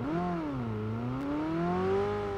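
McLaren sports car engine in a video game, a steady revving drone that rises, dips and climbs again with smooth pitch sweeps, loud and close with no talk.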